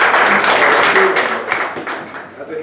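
Applause from the audience at a Toastmasters club meeting, a dense steady patter of many hands clapping for a speaker, sustained and fairly loud, tapering slightly toward the end.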